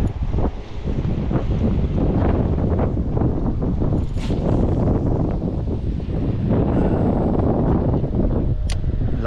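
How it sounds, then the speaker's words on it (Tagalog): Strong sea wind buffets a microphone on the New Zealand coast where anglers are fishing, a loud, continuous rumbling roar with gusty swells, occasional faint surf beneath and no speech. "Lakas ng hangin pati."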